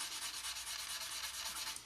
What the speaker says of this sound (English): using a sort of medium finish sanding stick,